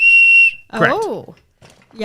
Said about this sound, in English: This is more of a whistle.